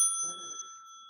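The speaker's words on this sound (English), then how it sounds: "So whenever we say the word bike, we get a little bell" A bicycle bell rings once, bright and clear, its tone ringing on and fading over about a second, with a faint murmur of voices briefly underneath.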